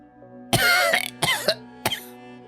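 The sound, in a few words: coughing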